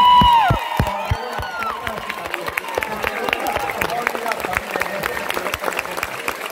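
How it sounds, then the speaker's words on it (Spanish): A live audience at a show in Bogotá in 2023 stands and applauds, with loud clapping, cheering, whistles and shouts. A whistle-like tone rises over the noise at the start, and the crowd keeps up steady, dense clapping. "quiero que todos los venezolanos se paren y le den un fuerte aplauso a los colombianos"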